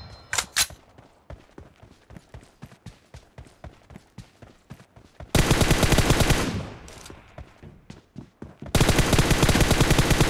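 Assault rifles fire in a video game TDM match, with a string of spaced single shots followed by two loud, dense full-auto bursts, close and dominant.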